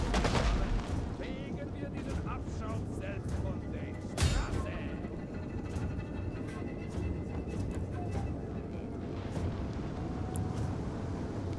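Total War: Attila siege weapons fire at a watchtower, with dense, continuous rumbling battle noise and one stronger impact near the middle, under steady game ambience and some talk.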